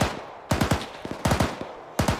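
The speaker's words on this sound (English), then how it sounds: "Alright, I'm hearing some fire off to the left now." Short bursts of automatic gunfire from the left in the Arma 3 WWII video game, three distinct volleys of sharp rapid shots with brief pauses between them, moderately near.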